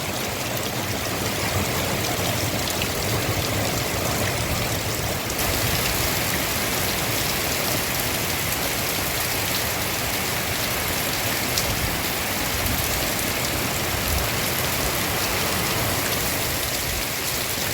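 Heavy rain pours down steadily in Berezan, Kyiv region, a dense, continuous roar of water on surfaces with no let-up and no voices.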